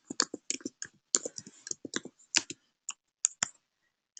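Keys clack on a computer keyboard as someone types into a software search field, bursts of close, crisp clicks in an irregular rhythm with short pauses between runs, with no voice.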